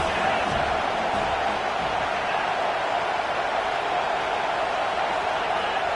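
A roaring college football stadium crowd at an NCAA Gators game fills the air with a dense, loud, unbroken wall of noise and cheering.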